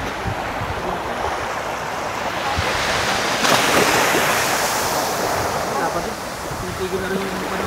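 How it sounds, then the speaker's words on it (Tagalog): Surf rolls and washes onto a white sand beach on Cagbalet island, a steady broad rush with wind across the microphone, while voices talk faintly underneath. "Ito yung dagat."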